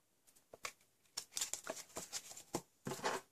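Folded paper being snipped into a diamond shape with scissors while making a paper craft: a run of crisp, close cutting and crinkling sounds in uneven bursts, with no talking.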